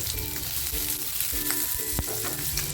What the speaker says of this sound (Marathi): थोडस तेल टाकते एक कांदा कापून घेतला होता तो टाकते